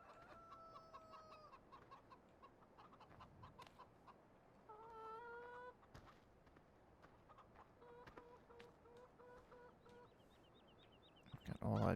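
Chickens on a farm in Farming Simulator 15, scattered clucks and short calls popping up near and clear over a quiet background, with a louder burst right at the end.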